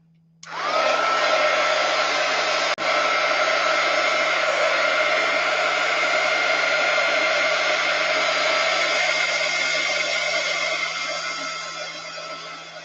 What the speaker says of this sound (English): I think I want to try to dry it a little bit with the heat gun.